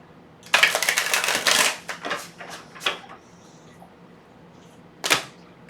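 Tarot cards being shuffled and cut by hand, heard as close, crisp bursts of riffling and flicking paper in quick clusters, then a pause and one final sharp riffle near the end.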